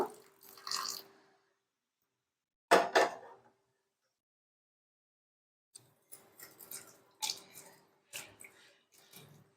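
Dried fish being washed by hand in water, with soft wet squishing and sloshing in a few separate bursts and quiet pauses between them.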